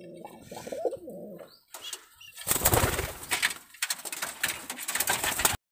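Giribaj pigeons coo in a loft, low throaty calls at first, then a burst of louder fluttering and shuffling noise with continued cooing, close by.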